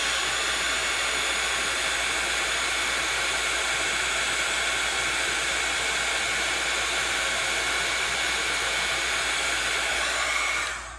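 A heat tool blows steadily to melt silver embossing powder on a handmade card, a loud continuous hot-air roar that holds for the whole stretch and cuts off at the very end.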